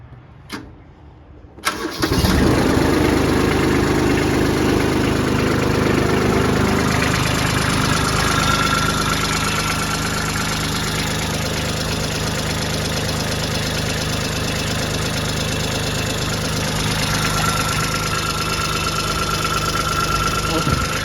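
A Kubota B2140 compact utility tractor engine cranks over and catches after about two seconds, then settles into a steady, loud diesel idle with a faint knock, running alone for the rest of the clip.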